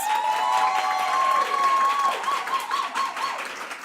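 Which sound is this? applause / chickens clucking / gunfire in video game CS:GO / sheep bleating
applause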